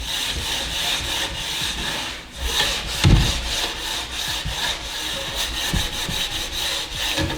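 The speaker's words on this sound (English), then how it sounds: "And just sort of polish that side all up." Someone rubs wax along a ski sidewall with a Brillo pad in steady, scratchy back-and-forth strokes. The close, coarse scrubbing has a brief pause and a sharp knock midway.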